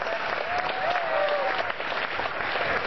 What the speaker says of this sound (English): So let's give Max again a tremendous round of applause.